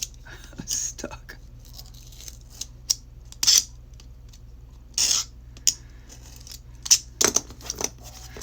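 Scissors snip through old tape stuck to an antique book, a handful of short, crisp cuts spread out over a quiet room, with faint murmuring between them.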